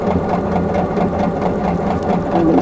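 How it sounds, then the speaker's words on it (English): A sewing machine stitches a quilt block with a loud, close, continuous whirring hum and fast needle pulse, running steadily without talk. "And go ahead and sew."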